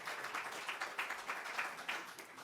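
Audience applause at a mayoral candidate forum, a steady wash of many hands clapping at moderate distance, fairly faint, with no talking over it.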